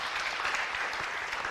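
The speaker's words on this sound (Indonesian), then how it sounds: "Tepuk tangan" A Balinese healing seminar audience gives sustained applause, dense and steady throughout, with no speech over it.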